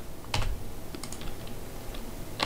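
Keys clatter on a computer keyboard in a short, quick burst of typing, close and fairly clear, with a few lighter taps trailing after.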